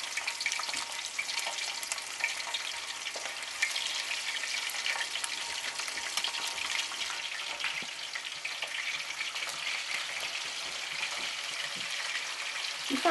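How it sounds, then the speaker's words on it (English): Chicken pieces fry skin side down in a large pan, making a steady, close sizzle with a continuous crackle and occasional sharper pops throughout, and no voices. "So once we've done that, then we fry off the pieces"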